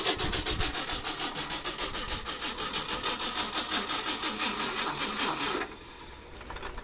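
A 1968 Ford F250 truck engine runs steadily with a fast, even mechanical patter, loud and close, for most of the stretch before abruptly dropping to a much quieter hum near the end.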